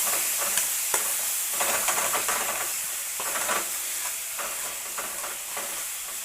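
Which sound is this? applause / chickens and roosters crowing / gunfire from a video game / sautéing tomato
sautéing tomato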